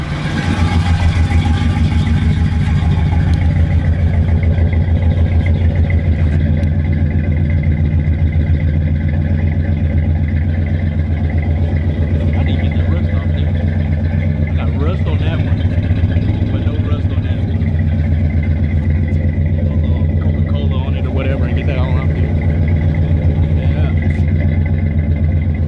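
A 1985 Chevrolet Caprice V8 after sitting a week, cold-started and settling into a steady, rumbling idle heard up close for a long stretch, with brief voices in the background.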